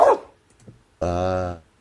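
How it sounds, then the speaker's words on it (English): A dog from a playing video gives one short bark and then a longer, drawn-out whining yelp, both brief and fairly close. "Listen to the dog."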